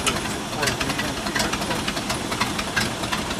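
A Cadillac 500 cubic inch V8 on an airboat in the Everglades runs loud and close, its broadband engine roar pulsing with repeated throttle surges and a steady rattling beat.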